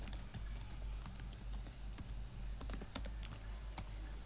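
JavaScript code is typed on a computer keyboard: a steady flurry of close key clicks over about four seconds, with a sharper tap near the end and no voices.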